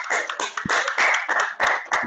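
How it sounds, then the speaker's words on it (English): A small audience in an online club meeting claps in a sparse, uneven patter of individual hand claps, close and fairly quiet, coming through as separate bursts rather than a full roar. "give a huge thunderous round of applause for Toastmaster Gurpreet"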